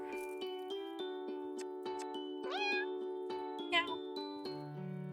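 Cartoonish cat meows in a video game, several rising, pitched mewls over a steady tonal music bed with chime-like notes, fairly close and clear, with no talk.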